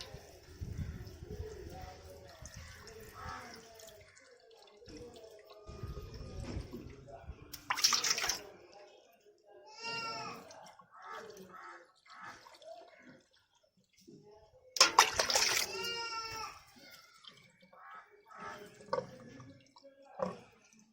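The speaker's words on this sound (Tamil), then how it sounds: "நம்ம கலக்கி வச்சுருக்க கூலண்ட் ஆயிலை வந்து ஒரு டம்ளராக எடுத்து ஊற்ற வேண்டியதுதான்." Coolant is poured from a tumbler into the radiator of a Maruti 800, heard as intermittent splashing and trickling bursts, with someone talking quietly throughout.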